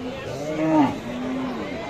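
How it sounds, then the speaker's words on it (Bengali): Cattle at a rural cattle market, with Sahiwal, local and Friesian cows on sale; one clear, nearby drawn-out moo rises and falls over a murmur of market voices and chatter. "আমরা একটু দেখাবো আপনাদের মাশাআল্লাহ গরুগুলি"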